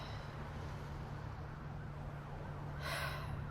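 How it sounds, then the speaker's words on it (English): Sirens pass by outside, faint and distant beneath a constant low indoor hum, swelling slightly near the end. "there's literally sirens going by right now."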